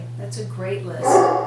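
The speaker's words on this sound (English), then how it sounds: "Oh, you guys pardon my dogs." Several house dogs bark and yip in short bursts in the background while a person talks over them.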